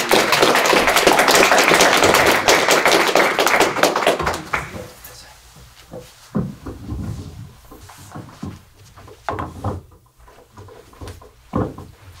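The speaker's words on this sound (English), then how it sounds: "let's give him a big round of applause" An audience at a talk on the teachings of the Golden Monk gives a round of applause. Dense clapping fills the first four seconds, then fades into scattered taps and a few isolated knocks.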